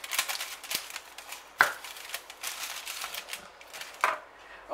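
Knife slicing through a chilled chewy chocolate coconut slice, a run of crisp close cuts and taps with a few sharper knocks against the board, no voices.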